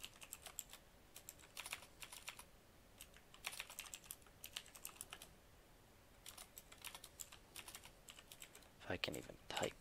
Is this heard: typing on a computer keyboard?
yes